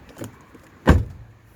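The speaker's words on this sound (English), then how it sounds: "Every time I shut the door, the boot just rattles." A Rover 45 car door shuts with a single loud thud, followed by a brief rattle from the boot, heard close up after a faint earlier knock.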